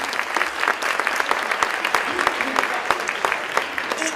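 An audience applauds in a hall, steady crackling claps with scattered sharper hits, moderately loud and continuous throughout.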